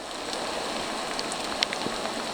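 Steady rain falling in a forest of maple and fir, a dense, even patter on leaves with a few louder nearby drops, no voices.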